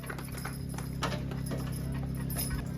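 Hooves of a small pair of draft horses clip-clop steadily at a farm class horse pull, a continuous busy rhythm over a low mechanical hum and crowd background.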